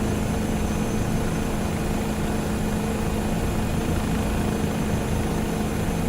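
Steady, loud helicopter engine roar at full throttle in Microsoft Flight Simulator 2024, a continuous droning rotor and turbine wash with a constant level, no pauses and no voices.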